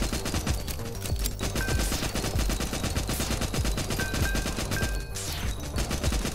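Rapid, continuous gunfire from an upgraded gun that began as a six-shot pistol in Nimrods Guncraft Survivor, a dense stream of shots with occasional crashes, steady and loud throughout, no talking.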